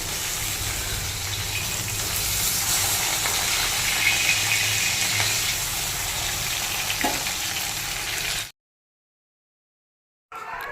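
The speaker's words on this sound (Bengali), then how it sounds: "এখানে পমফ্রেট মাছ ভাজা হচ্ছে" Pomfret fish frying in oil in a home kitchen, a steady loud sizzle with crackling spatter running continuously for about eight seconds, then cutting out abruptly before resuming briefly at the end.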